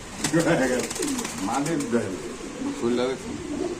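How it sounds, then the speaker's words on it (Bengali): Pigeons coo steadily at a busy pigeon market, their low throaty calls running through the whole stretch beneath continuous talk from nearby people. "এটা কিন্তু ভাই খুব সুন্দর একটা কবুতর মাক্সি কালারের"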